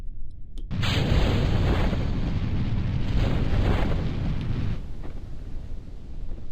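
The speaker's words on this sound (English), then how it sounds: "now we will just launch the rocket" A rocket launching in Kerbal Space Program: after a brief quiet moment, a loud sustained roaring rumble starts abruptly and holds for several seconds before easing into a softer hiss.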